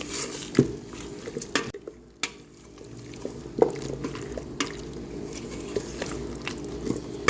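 A ladle scrapes and knocks against a pot as tomato paste is stirred into a simmering stew, giving irregular clinks and wet stirring sounds over a soft bubbling sizzle, with no talking.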